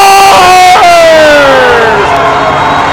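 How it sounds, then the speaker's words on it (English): A high school ice hockey rink crowd erupts right after a goal, loud sustained cheering with whistles and shouts, plus a bright horn-like tone sweeping down underneath, all close and dense. "And the crowd goes crazy"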